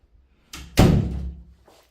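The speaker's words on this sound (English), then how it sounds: "Just going to shut the door for a minute" A bathroom door in a villa in Murcia, Spain swings and shuts with a single solid thump, preceded by a brief rustle of movement, heard close and loud in a small room before a faint trailing noise.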